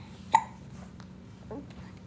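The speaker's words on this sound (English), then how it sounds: "You have hiccups?" A voice performs a character's hiccups during a children's fantasy story reading. There is one sharp, clear hiccup, then a softer second one about a second later, against a quiet background.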